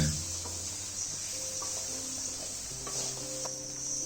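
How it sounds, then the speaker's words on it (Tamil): Green beans with small onion and coconut fry in a pan, giving a steady bright sizzle while a spoon stirs and scrapes against the metal with light irregular clinks. "திரும்ப இதை மாதிரி நல்லா கிளறி கொடுங்க"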